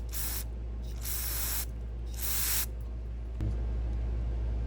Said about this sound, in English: So we're just going to make sure to spray that out good.